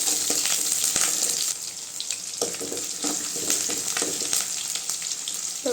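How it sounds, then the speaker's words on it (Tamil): Onions frying with garlic and curry leaves in oil for a fish curry, a steady bright sizzle with intermittent stirring scrapes and knocks close by, no talking. "இப்போ வெங்காயம் நல்லா வதங்கிடுச்சுங்க."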